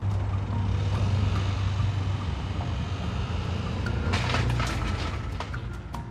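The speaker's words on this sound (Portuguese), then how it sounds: "Nesse vídeo dá para ver e ouvir o exato momento em que ocorre o hydrolock" A car engine suffering hydrolock roars steadily under heavy low rumble, then gives a cluster of sharp clattering knocks near the end as the failure hits.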